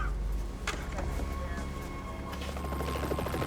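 Helicopter waiting outside to airlift a wounded police sergeant to hospital, heard as a steady low rotor and engine drone with mechanical whine running throughout, fairly loud and continuous.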